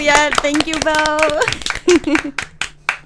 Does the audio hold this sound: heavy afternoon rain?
no